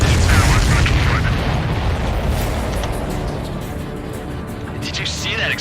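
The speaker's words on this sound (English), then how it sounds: "Did you see that explosion?" A missile explosion in the flight combat game Ace Combat 7: Skies Unknown, a deep booming blast whose rumble fades over several seconds beneath game sounds and a voice.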